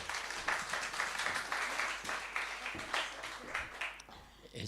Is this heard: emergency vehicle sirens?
no